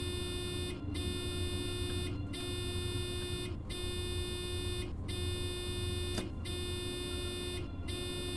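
A warning buzzer in a train cab in the Train Sim World 3 video game sounds continuously, a steady harmonic tone broken by short gaps about every second and a half, with no talking over it.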